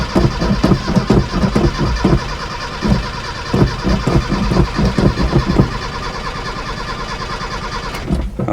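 A Chevy Luv pickup engine cranks repeatedly without catching, a steady close rhythmic churn of the starter that runs for several seconds, pauses briefly, then resumes near the end.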